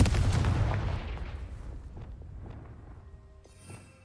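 Confringo fire spell explosion in Hogwarts Legacy: a single loud, deep blast at the start that slowly rumbles away over several seconds, followed by faint chiming effects.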